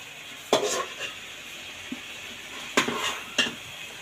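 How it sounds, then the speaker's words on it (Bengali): Biryani meat and potatoes are stirred in a pot at home, with a soft background sizzle broken by a few clanking scrapes of a spoon against the metal, close and quiet with no talk. "এই যে বিরিয়ানির মাংস কষাইতেছি আর আলু।"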